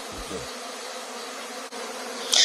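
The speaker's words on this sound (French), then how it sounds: "je sais que j'entends énormément de bourdonnement" A migrating honeybee swarm passing over a garden fills the air with a steady, dense buzzing hum, moderately loud and continuous, with a brief low rumble at the start and a sharper buzz near the end.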